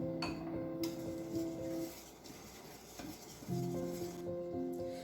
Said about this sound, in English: Corn flour, lemon zest, everything together, and I am going to mix it properly.